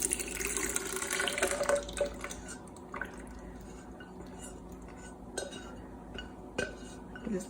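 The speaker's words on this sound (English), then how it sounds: "So I'm going to pour this into my blender." Thick corn puree pours from a pan into a blender, heard as soft wet sloshing and dripping with light clinks of the pan and utensils against the jar.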